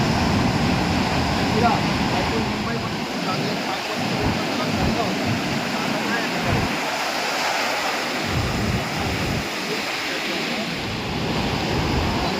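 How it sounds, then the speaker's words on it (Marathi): Sea waves break and wash continuously in a loud, surging roar on Chivla Beach in Malvan, with wind buffeting the microphone and people talking over it. "लाटा पण खूप जास्त येतात"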